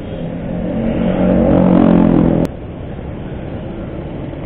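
A motorcycle engine hums under light throttle in dense Sunday traffic in Jakarta, swelling to a steady drone before dropping abruptly to a quieter idle-like rumble, with no talking.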